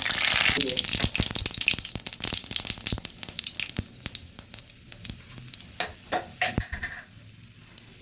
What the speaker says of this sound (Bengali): তেল গরম হয়ে গেছে চিনিও ফুটে উঠেছে এবার দিয়ে দেব গোটা দিয়ে